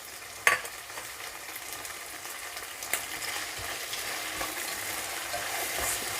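Mint leaves and ginger-garlic paste being stirred into a mushroom biryani masala frying in a pan: a steady soft sizzle with a few sharp utensil scrapes, close and even, no voices.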